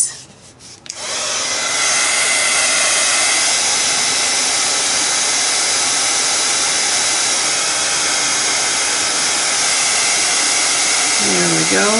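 After a brief click and rustle, a heat tool heating embossing powder switches on and blows with a loud, steady whooshing hiss that continues unbroken.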